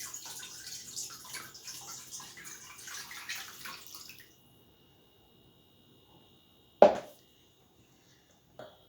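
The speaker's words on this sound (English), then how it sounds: "Put the meat in a saucepan and cover with cold water." Cold water runs steadily from a tap into a saucepan holding silverside beef for a few seconds, then stops; a couple of sharp clunks follow in the quiet.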